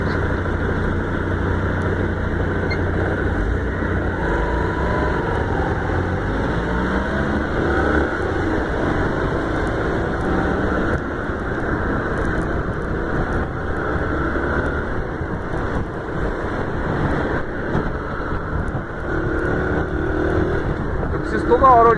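A Yamaha Factor motorcycle rides through the Parque dos Poderes area of Campo Grande, MS, its steady engine drone and road noise continuous and close throughout, with someone talking over it.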